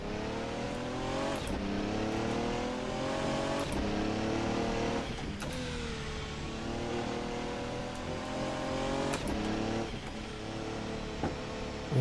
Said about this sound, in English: Interesting sounding engine, it really is.